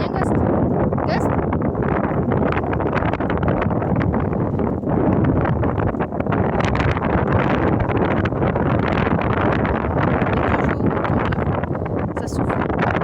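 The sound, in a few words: strong wind blowing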